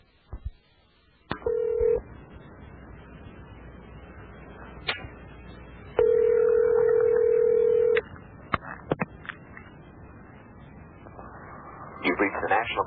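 A telephone call being placed for a radio show: a series of touch-tone dialing beeps, then long steady ringback tones, with background noise and a few clicks between them.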